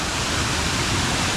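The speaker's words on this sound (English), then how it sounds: "I did not expect to see a waterfall here." Small waterfall in a Japanese garden in Mobile, Alabama, a steady, close, broadband rush of falling water filling the whole moment without pause or voices.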